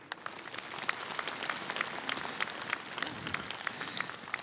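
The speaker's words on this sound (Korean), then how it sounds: "다시 한번 큰 박수 보내주시기 바랍니다" A large assembly of Buddhist monks and lay followers at a national rally claps in a steady, sustained round of applause, a dense even patter of many hands with no speech over it.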